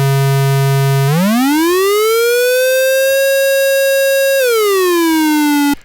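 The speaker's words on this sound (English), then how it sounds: "when you switch octaves, you can hear the Portamento switch as well." A Dreadbox Nyx v2 synthesizer holds a loud, bright buzzy tone, then glides smoothly upward an octave with portamento, sustains, and slides back down before cutting off.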